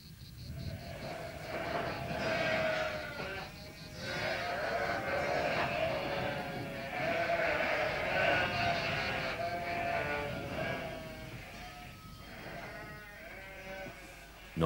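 A flock of sheep bleats continuously in a pastoral setting, many overlapping calls near and far forming a dense, steady chorus with no talking.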